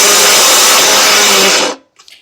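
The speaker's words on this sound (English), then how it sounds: "Just gather the drill and the stone" Drill boring a hole through a stone for jewelry, a loud, steady high-pitched whine that stops abruptly, followed by a couple of faint clicks.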